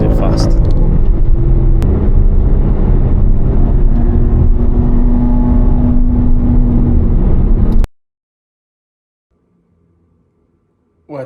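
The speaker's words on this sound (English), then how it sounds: "Nice little treat on the way home as well, trying to catch up to this V12 Lamborghini." Heavy road roar and engine drone while chasing a V12 Lamborghini, loud and constant with a rising tone, cutting abruptly to silence before a short burst returns at the end.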